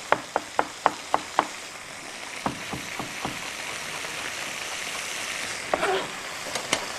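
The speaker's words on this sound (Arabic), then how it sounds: "رح نفرمها ناعمة" A knife finely chops peeled food on a board, a quick run of six sharp, close taps followed by a few scattered cuts, over a steady background hiss.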